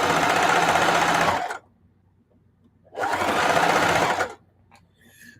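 A sewing machine stitching fabric runs in two steady bursts of rapid stitching, each about a second and a half long, with a quiet pause between them.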